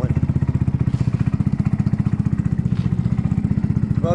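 A warmed-up carbureted Kymco People 250cc scooter idles close by with a steady, fast, even pulsing putter, moderately loud and unbroken throughout.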